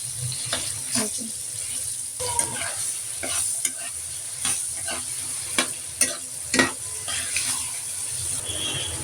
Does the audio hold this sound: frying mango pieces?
yes